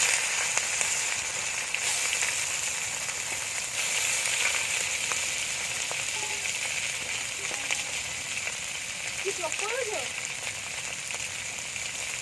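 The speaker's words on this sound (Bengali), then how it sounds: "চিংড়ি মাছটা ভেজে নেবো" Prawns fry in hot oil in a wok outdoors on a breezy day, making a continuous broad hiss with a few faint clinks and a short squeak-like scrape near the end.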